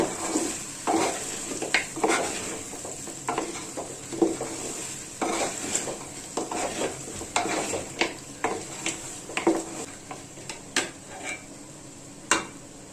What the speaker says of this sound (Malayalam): എന്നിട്ട് നല്ലപോലെ ഇളക്കി അങ്ങോട്ട് കൊടുക്കാം